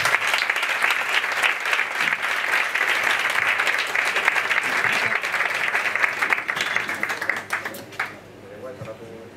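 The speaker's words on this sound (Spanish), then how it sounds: "Un fuerte aplauso, por favor." Loud, sustained applause from a dinner audience at a Christmas awards ceremony as a prize winner is honoured, dense clapping filling about eight seconds before fading out, with voices mixing in at the end.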